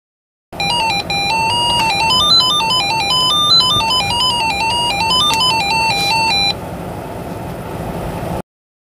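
A computer's internal PC speaker beeps out a tune from a Linux script, a loud, continuous run of rapid electronic square-wave notes captured inside the case, with a faint fan hiss left trailing briefly after the melody stops.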